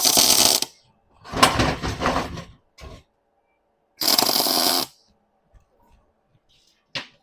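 Tack welding steel for a DIY hitch step gives several loud, harsh crackling bursts up close, two long and a few short, with near silence between them.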